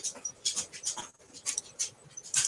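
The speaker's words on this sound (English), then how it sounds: "Is that a dog I hear? Yes, my dog." A pit bull dog whimpers in short, high whining bursts that come and go over a couple of seconds, fairly close but low in level, with faint room noise between the cries.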